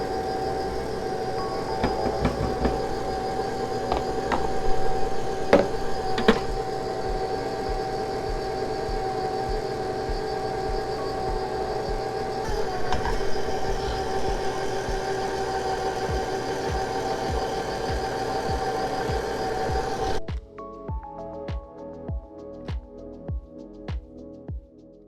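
KitchenAid stand mixer stirring cream puff batter, a steady mechanical hum with rhythmic clicks and knocks running for about twenty seconds before stopping, followed by quieter scraping taps.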